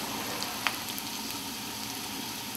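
Garlic sizzles in a hot pot alongside broccoli, a steady close frying hiss with a sharp pop or spatter near the start and no talk.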